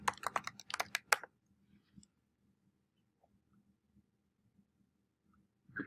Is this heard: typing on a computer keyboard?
yes